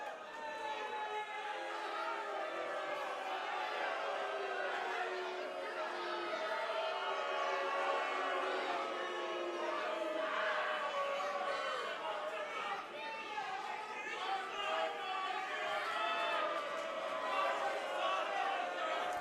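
Pro wrestling crowd chanting and jeering at the tag team champions, a dense continuous roar of voices filling the arena, loud and steady throughout with rhythmic chant patterns rising and falling.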